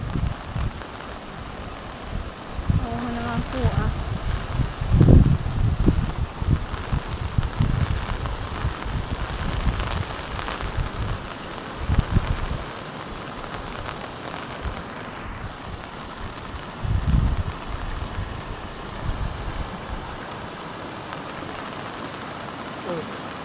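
Heavy rain falls during Typhoon Aghon in the Philippines near a swollen, muddy creek. A constant hiss of rain runs throughout, with voices talking over it in bursts.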